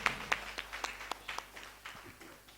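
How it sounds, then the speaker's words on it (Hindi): A scattered audience at an anniversary ceremony claps for the cluster manager: sparse, uneven claps at a modest distance, rather thin and tapering off toward the end. "तो एक बार जोरदार तालियां हमारे संकुल मैनेजर के लिए"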